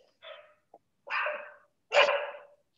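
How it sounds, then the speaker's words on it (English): A dog barks three times at close range, short separate woofs spaced about a second apart, louder toward the end, in an otherwise quiet indoor setting. "My dog is going to bark."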